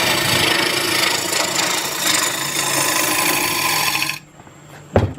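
Wood lathe turning a wet wood bowl while a chisel cuts, a loud continuous rough shaving roar for about four seconds, then the cutting stops, leaving a quieter hum and a brief knock.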